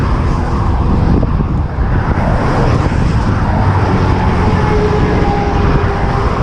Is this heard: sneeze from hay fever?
no